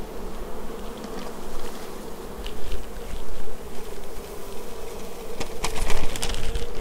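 Dense, steady buzzing of many honey bees from a brood frame, close and loud, with occasional light tapping and rustling.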